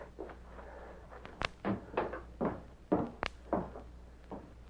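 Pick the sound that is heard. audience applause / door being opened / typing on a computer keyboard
door being opened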